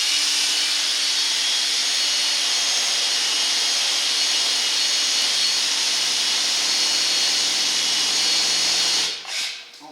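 A power drill bores through a roof panel, a loud, close, steady high whir with a grinding edge that holds for about nine seconds, then cuts off abruptly and winds down.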